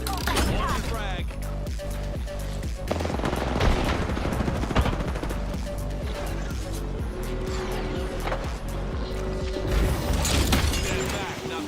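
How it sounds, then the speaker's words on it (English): A knuckle cluster weapon fires in a video game, a dense continuous rattle of rapid mechanical shots and clanks, loud and close, with voices talking over the barrage. "Stand back. Knuckle cluster's firing."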